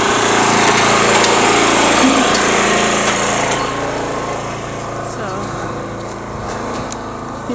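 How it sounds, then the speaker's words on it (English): A generator engine runs steadily at a building site during ceiling and insulation work, a loud, high-pitched droning hum that holds throughout and eases slightly partway through, with someone talking over it. "messing with the generator a little bit"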